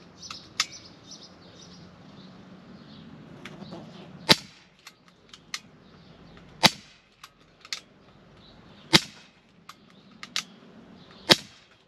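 Walther PDP Compact 4.5mm BB air pistol firing, a series of sharp, snappy pops spaced irregularly a second or two apart over a quiet outdoor background with faint bird chirps.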